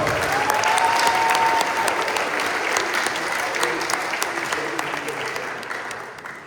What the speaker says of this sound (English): But again, please give a round of applause to Mr. Alfred Viscar.